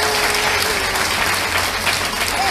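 Loud, dense applause from the audience at a Srimad Bhagwatam religious discourse in Garhi, Delhi, continuous rapid clapping filling the whole stretch with no talk over it.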